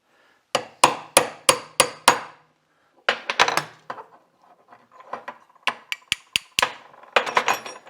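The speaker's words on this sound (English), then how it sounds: "I'm going to put it right in between this gear and this bearing and give it a light tap" A hammer lightly taps a chisel wedged between a gear and its bearing during a gearbox rebuild on a 1966 Mercury Merc 110 9.8 hp outboard. The sharp, close metallic strikes come in a quick even series, then in lighter irregular taps.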